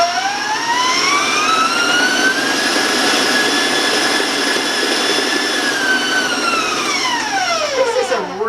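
A stand mixer with a paddle beats bread dough at high speed, its motor whine rising in pitch, holding a loud, steady high tone, then winding down at the end, with no talking.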